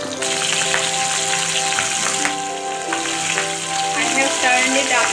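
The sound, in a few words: pabda fish frying in mustard oil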